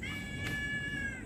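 A stray cat gives one drawn-out, tonal meow close by over low background noise, with no talking.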